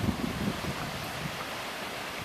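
A raging creek beside the Steese Highway in Alaska rushes in a broad, steady roar, with some wind buffeting at the start, heard up close and without anyone speaking.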